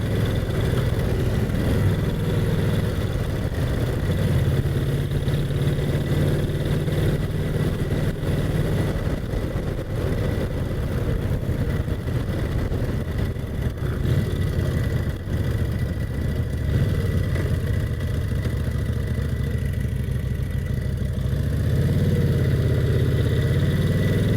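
A Brough Superior SS80 motorcycle rides along country lanes, its engine droning steadily and rising and falling with throttle and gear changes, loud and close for the whole stretch, with no talk.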